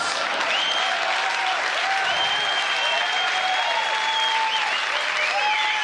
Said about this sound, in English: He's applauding for that, do you see?